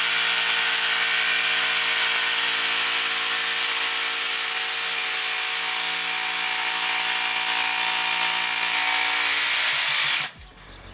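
A plunge saw bites into wood for a plunge cut, a loud, steady high whine held for about ten seconds before cutting off abruptly. No one speaks.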